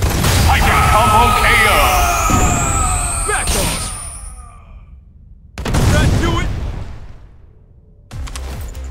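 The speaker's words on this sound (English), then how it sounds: "Grenade launcher." In Marvel vs Capcom Infinite, a grenade launcher fires in loud repeated bursts with crashing explosions, mixed with in-game character voices shouting.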